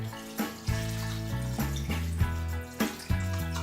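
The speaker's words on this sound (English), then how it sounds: "Now I'll cover this with water." Water is poured into a soup pot over diced fire-roasted tomatoes, a steady close splashing flow with a few louder gushes.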